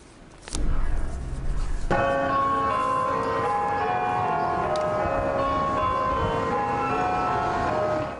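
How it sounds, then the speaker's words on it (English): Church bells at the Church of St. Paul the Apostle ring out steadily, layered tones sustaining and overlapping after a loud first strike, continuing without pause and no voices. "Those are bells of hope ringing out today at the Church of St. Paul the Apostle."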